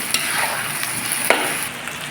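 Seasoned ground meat stirred in a hot pan, with a steady close sizzle and a few soft scraping knocks of a utensil, no talking.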